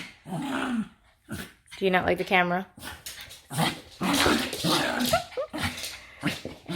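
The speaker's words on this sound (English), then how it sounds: "So if you hear some barking or some whining or whatever it is" A pet dog whines with high, wavering whimpers and gives a few short barks from behind the camera, mixed in with someone talking nearby.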